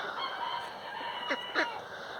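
Chickens being let out of their coop in the morning give two brief, faint clucking calls over a quiet outdoor background.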